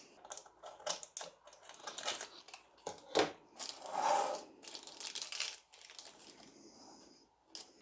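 Paper or baking parchment being snipped and folded to line a cake tin for a Victoria sponge, a close series of crinkling, crumpling rustles and sharp snips, with no one talking.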